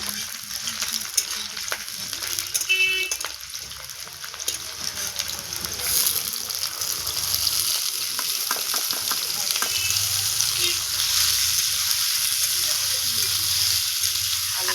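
Onions and potatoes fry in hot oil for a Bengali stir-fry, a continuous, fairly loud crackling sizzle with stirring noises and watery hiss running throughout.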